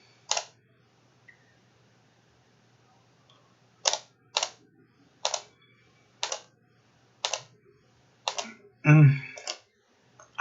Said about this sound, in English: I was actually clicking the wrong way